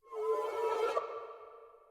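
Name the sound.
sample pitched up an octave and reversed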